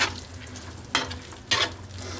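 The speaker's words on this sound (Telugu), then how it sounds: "గ్యాస్ ఆఫ్ చేసిన తర్వాత కూడా కొంచెంసేపు కలపాలి." Food being stirred in a hot pan just after the gas is switched off, a quiet continuous sizzle with two brief scraping strokes of the spoon, close and without talk.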